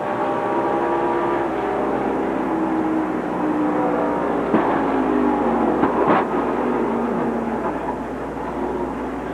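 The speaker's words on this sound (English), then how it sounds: "You could even see some debris of rubber come off the tire as it popped and straight into the wall." In-car audio of a race car at speed, a steady engine drone, then a sharp bang as a tire pops and a heavy hit into the wall, followed by continuing rumble.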